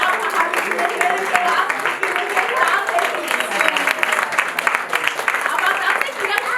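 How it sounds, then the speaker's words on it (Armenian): Clapping from a kindergarten audience keeps up a continuous, fairly loud patter while someone talks over the crowd. "Հավատար ծափահարեք"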